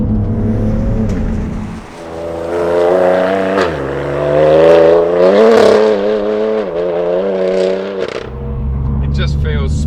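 A tuned 520+ bhp BMW M3 Competition Package from Evolve Automotive accelerates hard, its engine note climbing loudly through gear changes, heard from inside the car while someone talks over it.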